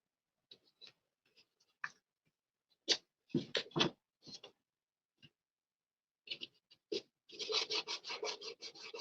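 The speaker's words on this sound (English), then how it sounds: "Make sure I burnish it down really," Masking tape is rubbed and pressed down onto a motorcycle helmet during restoration prep, giving short, close scratchy strokes in irregular bursts that become a rapid run of rubbing at the end, with no voices.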